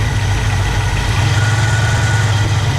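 A 1964 Pontiac Catalina barn-find engine runs with too much throttle, a loud, steady, low rumbling idle with a fast high-revving drone, close up and without talk.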